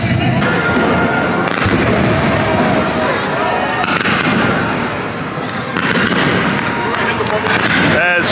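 Fireworks bursting loudly and continuously at a football bowl game, dense crackling booms filling the air nearby while people talk and shout over them.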